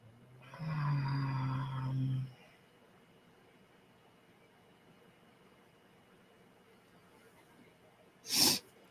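A single sharp, loud sneeze bursts out near the end, after a drawn-out voiced sound early on and a quiet stretch.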